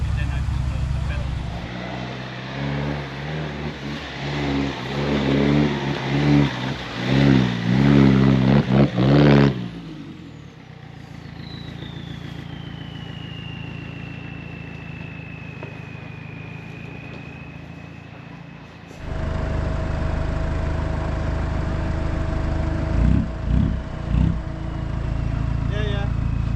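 A modified Land Rover Freelander 1 off-roading on a mud run revs hard in surges, then eases to a lower drone before revving again, with people talking over the engine.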